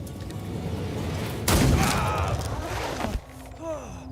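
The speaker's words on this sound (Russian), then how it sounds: "You try holding still when some lassie's shooting at you." A gunshot in the video game Banishers: Ghosts of New Eden: one sudden, loud blast that tails off over a second or so against game ambience, followed by quieter rumbling and a rising creature-like whine.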